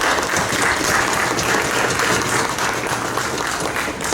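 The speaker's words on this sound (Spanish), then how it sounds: "Para escucharlo a Miroslav Rahner, recibámonos con un fuerte voto de aplauso" Sustained, dense applause from an audience at a book presentation during a book fair, loud and even throughout with no talk over it.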